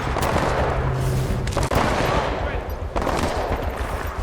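Rapid burst-fire gunshots ring out in the shooter game Titanfall 2, loud, dense volleys with a short pause midway, over the game's background sound.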